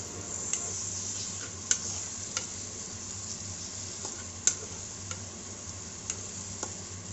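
Chutney ingredients with roasted gram are stirred as they fry in a pan. A soft, steady sizzle runs throughout, with sharp taps of the spoon at irregular intervals.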